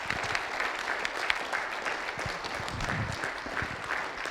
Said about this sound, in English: Can we have a round of applause for them as well?